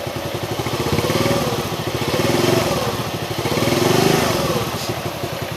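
Honda C70 motorcycle with a full-wave 12 V standard magneto, its engine putting steadily nearby and rising and falling in a few gentle revs, loud and continuous with no talk.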